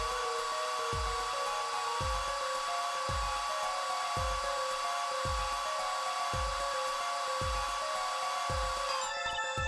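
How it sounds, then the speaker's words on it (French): A plaster cast is dried with a dryer in the Apollo Justice: Ace Attorney game, a steady whirring drone running throughout over a repeating low thudding beat, with no speech. "Ensuite, on fait sécher le plâtre."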